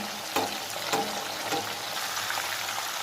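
Half-fried chicken gizzard pieces sizzle steadily in a hot oily pan after being turned, a dense, close crackle with a few soft clinks early on and no talking.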